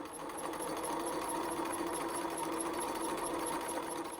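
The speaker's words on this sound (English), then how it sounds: "I am just going to leave my needle in the center position and then just stitch" Domestic sewing machine stitching bias tape onto the armhole of an A-line dress (New Look 6263), needle in centre position; a steady, close, continuous whirring drone with a rapid even needle rhythm throughout.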